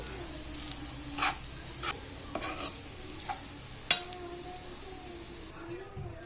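Egg fried rice stirred in a pan over high flame, with a steady sizzle beneath repeated scraping and clinking strokes of the spatula, close and moderately loud.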